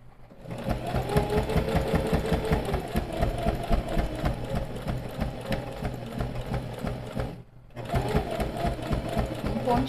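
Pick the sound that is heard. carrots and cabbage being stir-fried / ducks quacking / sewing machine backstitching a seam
sewing machine backstitching a seam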